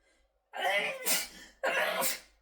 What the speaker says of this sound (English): sorry for that sneeze